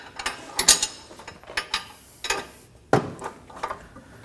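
A 24mm wrench holds the nut while a 19mm socket ratchet torques the two strut-to-knuckle bolts on a 2011-2016 Kia Optima. Close, dry ratcheting clicks and metallic clanks come in short uneven bursts with no talk.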